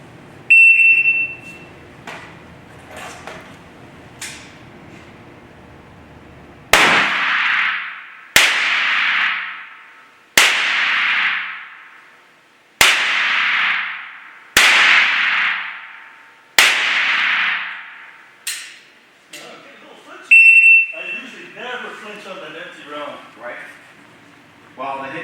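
Handgun shots fired one at a time during a Canadian authorization-to-carry proficiency test, six loud sharp reports spaced roughly two seconds apart, each followed by a ringing decay outdoors, with electronic beeps from a shot timer and a voice speaking at the start and end.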